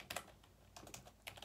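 Quiet, close keystrokes on a computer keyboard come in a few short clusters of soft clicks separated by brief pauses, with no one speaking.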